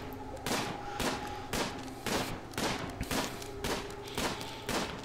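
RimWorld gunfire cracks out in a steady rhythm, about nine sharp shots spread evenly over a few seconds at moderate loudness.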